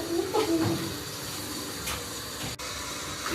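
A shower runs steadily over a dog named Loki, a continuous close spray with small splashing changes and one brief break in the flow.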